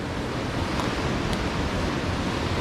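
A river on Mount Kilimanjaro rushes in a steady, dense roar of flowing water, loud and unbroken throughout with no voices.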